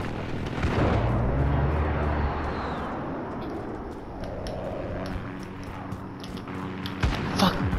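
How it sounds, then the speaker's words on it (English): Precision airstrike explosions in a Call of Duty match: heavy rumbling booms at the start fade into a noisy battlefield wash with scattered sharp cracks and a louder hit near the end, with a game voice over the top. "Allied precision airstrike incoming"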